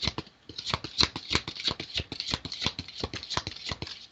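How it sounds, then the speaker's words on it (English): Tarot cards riffle and slap in a quick, continuous rhythm of crisp flicks, close up and moderately loud, with no talking. "And a real good shuffle."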